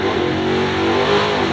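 A 1957 Chevy Bel Air race car engine revving at a track event, a loud, close, sustained throaty roar with a rising pitch over a short burst, no voices.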